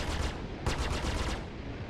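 Rapid burst of missile launch and weapon fire from a Sabre spaceship in Star Citizen space combat, a dense run of sharp repeated blasts with a louder cluster midway, alone without voices.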